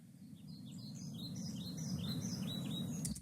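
Several small birds chirp and tweet in quick, scattered calls over a steady low background hum, kept at a moderate, slightly distant level.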